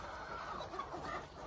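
Chickens clucking softly in a steady, low murmur, with a faint continuous background noise and no talking.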